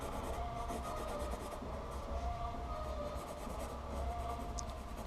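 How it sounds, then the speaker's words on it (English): A hard pencil scratches crisp lines across paper up close, a continuous dry rubbing texture of steady strokes under a faint background hum, with no talking. "now we're going for a much sort of harder pencil, get the crisper lines in"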